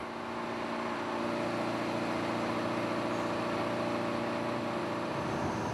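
Heavy diesel engine idling in the engine room of a skate fishing boat, a constant low rumbling drone with steady tonal hum that grows slightly louder after the first second, close and uninterrupted.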